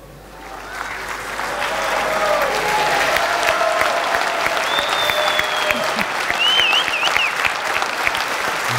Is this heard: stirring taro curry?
no